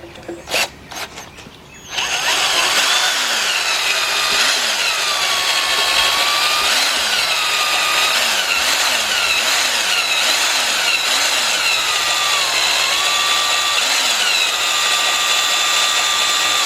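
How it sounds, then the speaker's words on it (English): A loud power drill whines continuously at close range, its pitch dipping and recovering repeatedly as it bites through a hard metal bolt at the manifold of a 1977 Buick LeSabre 350 engine. "let's get our drill and we went through the bolt"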